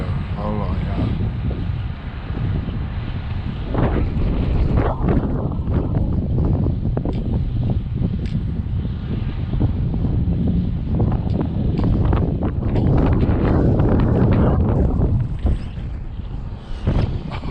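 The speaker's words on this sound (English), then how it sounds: "the breeze is a little bit too much today." Strong outdoor breeze buffeting the microphone at a park where RC trucks are being bashed, a loud, continuous rumbling roar that swells and eases, with voices talking faintly underneath.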